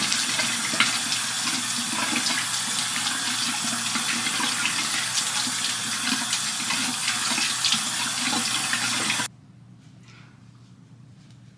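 Lukewarm tap water running steadily into a bathroom sink while a face is rinsed, a close, even splashing rush that stops abruptly near the end, leaving a faint quiet room.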